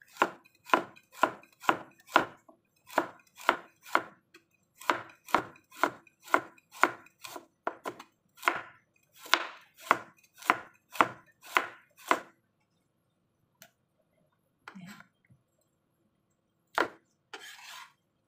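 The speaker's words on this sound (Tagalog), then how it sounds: "Slant lang natin yung carrot natin. Tapos hiwain natin ito pa guys." Kitchen knife slicing a slanted carrot into thin pieces on a cutting board, a steady run of sharp, evenly spaced chops close by, then a pause with a few scattered knocks.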